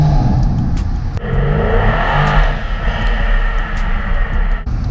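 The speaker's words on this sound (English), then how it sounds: "You can't beat a 4-litre V8, can you?" A Mercedes-AMG 4-litre V8 car engine revs hard inside a tunnel, a loud, close, echoing roar that shifts pitch briefly near the start and then cuts off just before the end.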